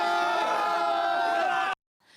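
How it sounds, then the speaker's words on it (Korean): Tourists at a winter trout-catching festival cheer and shout together, a loud sustained crowd roar that cuts off abruptly, followed by a brief quieter murmur. "성인 팔뚝만한 송어를 잡아 올리자 관광객들이 환호성을 지르며 축하해줍니다."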